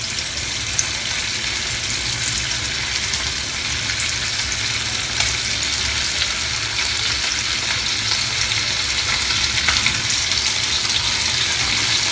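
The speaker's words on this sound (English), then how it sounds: "Dip the fish in the rava and rice flour mixture before dropping them into the hot oil for frying" Constant loud sizzling and crackling of Bombay duck fish, coated in semolina and rice flour, frying in hot oil, steady and close, with no voices.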